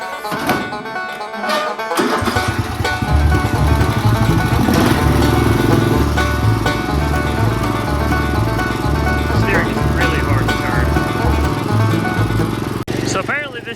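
A Murray lawn mower engine runs loud and close with a steady, rough chugging that starts abruptly after a quiet moment and continues throughout, with people talking over it.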